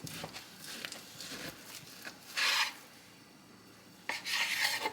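Knife cutting beef into half-inch chunks for Texas chili: two rasping, scraping strokes on a board, each about a second long, stand out from quieter shuffling and handling noises, close and moderately loud.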